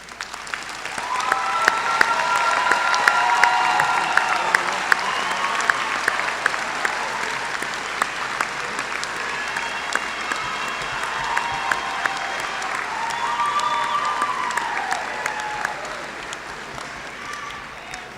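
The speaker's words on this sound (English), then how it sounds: "Let us give our award recipients a round of applause." A large crowd applauds steadily for a long stretch at a college commencement award presentation, the clapping loud and sustained with some cheering mixed in.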